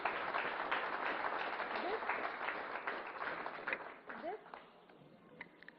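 An audience applauds at the launch of an MSME Connect portal during a national stakeholder consultation, with steady moderate clapping in a hall that gradually thins and tapers off toward the end.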